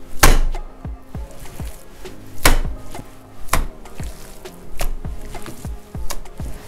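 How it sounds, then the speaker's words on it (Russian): Minced meat for baked hedgehog meatballs being lifted and thrown down by hand, making repeated heavy wet slaps, roughly one every second, close and loud. "Когда вымешиваем фарш, стараемся его отбивать."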